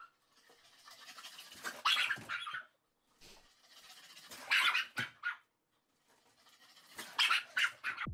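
An energetic dog pants in rapid bursts of breathy, rasping huffs, close and fairly loud, in three clusters separated by brief pauses.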